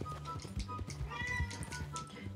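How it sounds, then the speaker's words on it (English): A pet cat meows several times in quick succession in a quiet room, the short, fairly soft calls sitting close and alone. "she's just a cat meowing"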